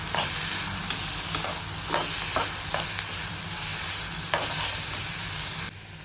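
Tender bitter gourd sautéed in a pan, a constant close sizzle broken by repeated short scrapes and clacks of a stirring spoon, easing to a softer sizzle at the end, no speech.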